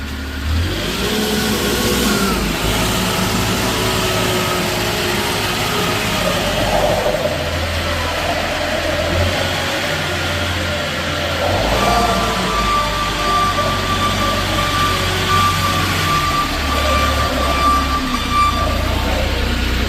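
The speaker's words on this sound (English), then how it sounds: "Now just driving around a little bit, you can see how nice and tight, how everything operational." A 2016 Moffett M8 70.3 truck-mounted forklift with outriggers and a 12-foot mast driving around, its mid-pitched engine droning loud and close with rises and falls as it revs and slows, someone talking faintly at times.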